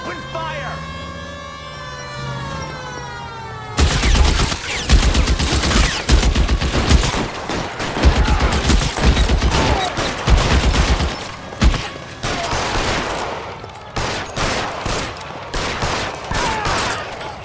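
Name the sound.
gunfire shootout in the video game L.A. Noire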